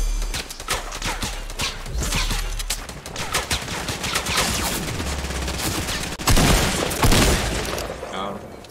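Dense Fortnite gunfire in a squads match, with rapid automatic bursts and heavy shots that continue loud and close almost without pause, plus a louder blast near six seconds, under a player's excited speech.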